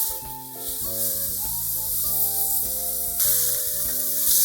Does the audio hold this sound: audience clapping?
no